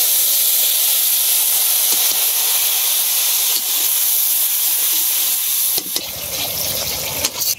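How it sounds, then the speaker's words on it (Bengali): A paste of turmeric, salt, chili and ground cumin fries together in a pan, giving a steady loud hiss and sizzle with steam noise throughout and a few faint clatters near the end. "হলুদ লবণ মরিচ করে জিরা বাটা একসাথে কষে ফেলতেছি।"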